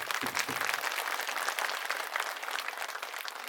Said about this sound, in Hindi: मैं चाहूंगा हमारे कार्यकर्ताओं के लिए सबसे पहले एक बार जोरदार तालियां आप लोग बजाइए